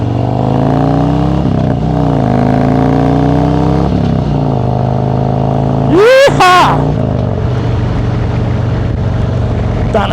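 A steady motorcycle engine drones throughout at a constant pitch, with a brief rising whine cutting through about two-thirds of the way in; voices murmur underneath.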